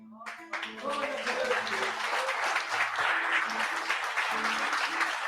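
A church congregation breaks into loud, sustained applause that continues steadily, with voices shouting and cheering mixed into the clapping.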